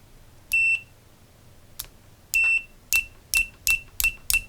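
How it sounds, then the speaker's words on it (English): Sharp high-pitched multimeter continuity beeps, a few spaced apart then a quick run of short repeated beeps, clear against a quiet background. "Now is set on continuity or beeping signal."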